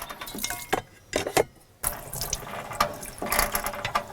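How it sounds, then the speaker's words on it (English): A hand pump in a camper van sink draws water, producing ratcheting mechanical clicks and splashing, gurgling water that keeps running, with brief gaps between pump strokes. "it siphons up water, and then there's plenty of water that's still coming out"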